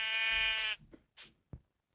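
Minecraft sheep bleats in a long, wavering tone lasting most of a second, with a few soft clicks and thuds in the game afterwards.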